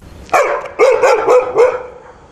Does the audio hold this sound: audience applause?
no